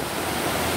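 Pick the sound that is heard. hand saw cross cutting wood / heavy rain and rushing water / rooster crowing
heavy rain and rushing water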